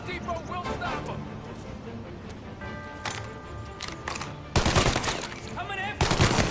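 Bursts of rifle and machine-gun fire in a Mafia game shootout grow louder and denser toward the end, mixed with shouting voices.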